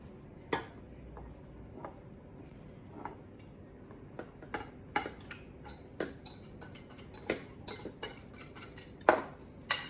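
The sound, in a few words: mixing cheesecake batter in a bowl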